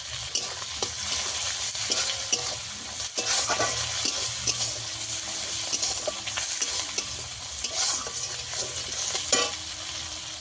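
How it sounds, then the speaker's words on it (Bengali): Chopped tomatoes fried and stirred with ginger, garlic, coriander and winter vegetables in a pan, giving a steady close sizzle broken by repeated scraping and stirring clinks all the way through. "টমেটোগুলো ভালো করে সিদ্ধ করে একদম ভেজে নিচ্ছি"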